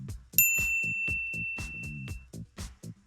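A single bright bell ding rings out and slowly fades, over a steady, pulsing rhythmic background.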